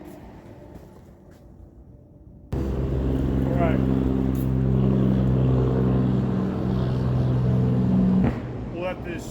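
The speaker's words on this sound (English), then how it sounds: "We'll let this truck go by and do his brake exhaust." A truck passes close by using its engine brake: a loud, sustained exhaust roar starts abruptly and rumbles steadily for several seconds before easing off. A voice speaks briefly.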